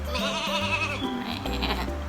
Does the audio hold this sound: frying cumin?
no